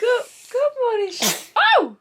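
A baby girl gives a single quick, breathy sneeze, a short sharp burst set between an adult's soft, affectionate voice in a quiet room.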